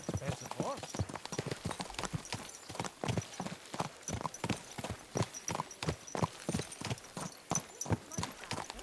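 Steady clip-clop of horse hooves at a brisk walking rhythm in Kingdom Come: Deliverance II, close and clear, continuing throughout with a faint background hum.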